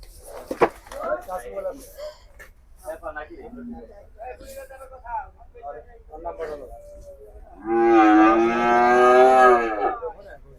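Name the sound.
cattle mooing at market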